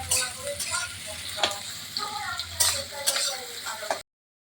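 Onions fry in a pan until reddish for a Bengali mutton curry with potatoes. A steady, close sizzle runs throughout, with occasional clinks and scrapes of stirring, then cuts off abruptly.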